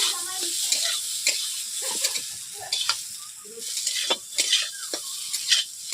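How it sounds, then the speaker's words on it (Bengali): Potatoes frying in hot oil in a village-style kitchen pot, steady sizzling hiss with repeated scraping stirs of a utensil against the pan, close and moderately loud, no talking. "আলুগুলোকে ছোট করে রেখেছিলাম হালকা, আমি তেলের মধ্যে একটু নেড়ে নিচ্ছি।"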